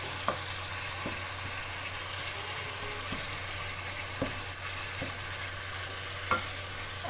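Marinated minced meat (keema) frying with onions in a pan, a constant low hiss of sizzling with a few sparse spoon taps, close and quiet, with no talking.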